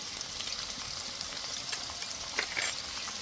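Potatoes and soybean chunks fry with salt and turmeric in a steady low sizzle, broken by a few light stirring clicks, close and without speech.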